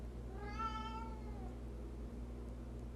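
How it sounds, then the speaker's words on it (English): A single drawn-out meow from a house cat wanting to be let outside, clear and fairly close, rising then trailing off over a steady low indoor hum, followed by quiet room tone. "And a kitty that wants to go outside."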